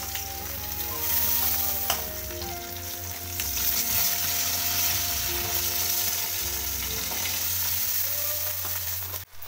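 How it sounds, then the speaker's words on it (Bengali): Pieces of rohu fish fry hard in hot oil, a loud, steady sizzle with a few faint clinks of a utensil running throughout, with no talk. "খুব ভালো করে ভেজে নিতে হবে। দেখো, এরকম কড়া করে ভেজে নিতে হবে একটু।"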